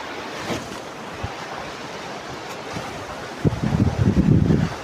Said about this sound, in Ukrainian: вітряно дуже